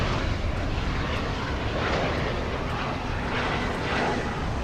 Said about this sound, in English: American 436 from Salt Lake City, an Airbus A321